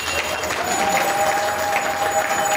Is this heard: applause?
yes